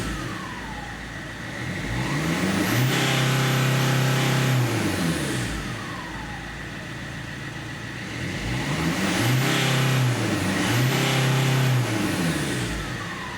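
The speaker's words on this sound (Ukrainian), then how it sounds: "Газується." An Opel Vectra C with the Z19DTH diesel engine is revved twice at idle. Each time the engine climbs sharply, holds high, then drops back, heard up close with no talking.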